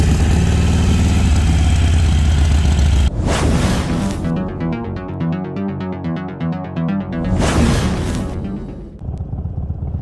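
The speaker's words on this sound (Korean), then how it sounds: "바이크에 시동을 힘차게 걸어줍니다." A Harley-Davidson Sportster 883 customised as an old-school chopper cranks, fires up with a loud burst and settles into a loping idle, then blips again, close and with no talk.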